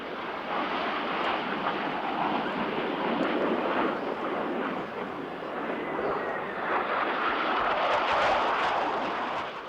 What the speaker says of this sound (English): look closely for both aircraft in a carrier landing configuration as they approach for a maneuver we call